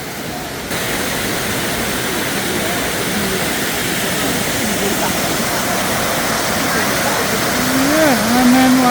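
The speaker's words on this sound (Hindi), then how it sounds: "ये है मेन वाटरफॉल जो सब तस्वीरों में दिखाया हुआ है।" Kuang Si waterfall in Laos, a loud steady roar of falling water filling the whole clip, with a voice briefly heard near the end.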